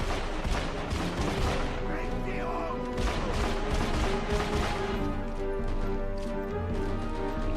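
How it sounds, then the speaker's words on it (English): Sustained rapid gunfire in a boss fight from the video game Deadfall, dense overlapping shots running steadily throughout, loud and near, over game music and effects with no talking. "let's just finish him off now by loading him full of ammo"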